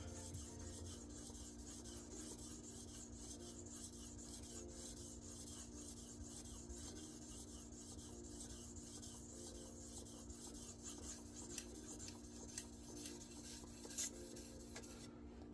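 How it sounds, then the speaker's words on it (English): A sharpening stone grinds steadily against the metal blade of a Case Sodbuster knife on a TS Prof Kadet Pro sharpener, producing a faint, continuous raspy scraping with repeated stroke-like ticks over a low background hum. "That grindy sound that some people hate with the stone against the metal."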